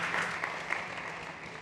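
Audience applause at a startup stage event, a steady wash of clapping filling the room for its full short length with no talk over it.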